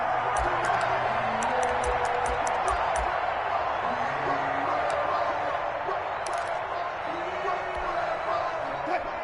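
Steady stadium crowd roar from a video game football broadcast of the Packers against the Seahawks on PS4, holding loud and continuous throughout, with sharp percussive hits early on and a commentator's voice over it.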